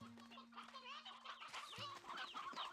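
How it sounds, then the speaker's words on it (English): Chickens cluck together in Slime Rancher 2, a dense overlapping flock of short game-audio clucks running steadily throughout with a low hum beneath, no talk. "at all those chickens."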